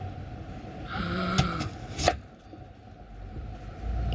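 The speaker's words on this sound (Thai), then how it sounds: "Onion, onion. Oh, we cut it." Knife chopping onion on a board, a few sharp cutting thuds around the middle over a quiet kitchen background.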